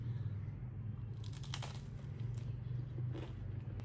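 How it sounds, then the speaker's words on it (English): A few crisp, quiet crunches sound up close as a pan-fried roti pizza is bitten into, set against a low background hum. "I hope you can hear that crunch"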